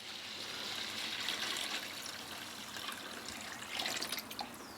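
Water dipped from a bucket and poured into a clear plastic storage bin used as a duckling waterer, a steady splashing pour running nearly five seconds, close by with no talk.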